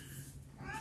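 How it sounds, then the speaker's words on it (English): A pet cat cries in a few faint meows, the last rising and tonal near the end, over steady low background hum in a room. "There's my cat crying."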